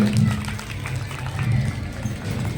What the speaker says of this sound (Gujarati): જોરદાર તાળીઓ પાડીને વધાવી લઈએ